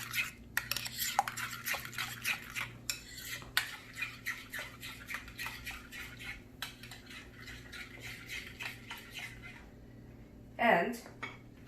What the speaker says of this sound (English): So we will mix it all together.